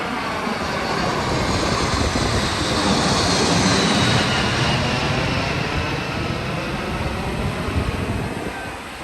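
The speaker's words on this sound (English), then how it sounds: "I believe that's a C-17 flying right over top of us here" A C-17 military transport aircraft passes directly overhead at a Fourth of July event in Myrtle Beach, producing a loud, sustained broadband jet roar that swells and slowly fades with no talk over it.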